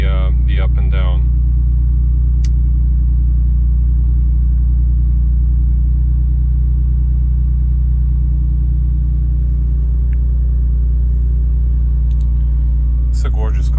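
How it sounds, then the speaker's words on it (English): A BMW engine idles steadily after a very cold start, a loud constant low rumble that holds even throughout, with a brief voice at the start. "very cold start idle"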